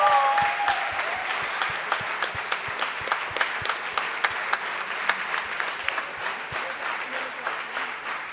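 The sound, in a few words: audience applause at valedictory function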